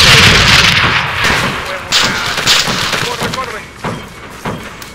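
Loud gunfire from the video game Arma 3 cracks in a few sharp shots and bursts over rumbling noise, while voices talk excitedly through the exchange.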